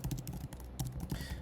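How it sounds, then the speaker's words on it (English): Fingers typing on a computer keyboard while filling in a registration form, a quick run of close, crisp key clicks in uneven bursts with no talk. "Let's type the email, also the password, and now we just click on register."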